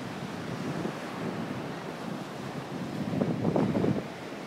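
Ocean surf at Laguna Beach, with cold water: a soft continuous wash of waves and wind noise, swelling briefly as a wave breaks.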